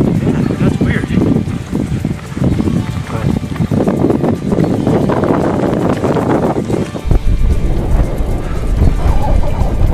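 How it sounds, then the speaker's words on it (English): Strong wind during a marathon in Tibet buffets the microphone with a heavy, rumbling roar throughout, while people talk over it. "The wind is really strong."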